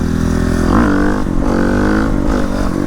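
A 2023 Suzuki RM-Z 450 dirt bike revs hard during a wheelie attempt, its loud, close engine climbing and dropping in repeated throttle surges.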